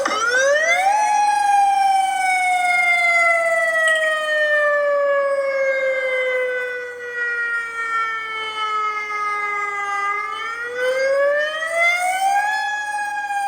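A tsunami alert warning siren wails loud and steady, its tone gliding slowly down and then sweeping back up, heard alone without talk.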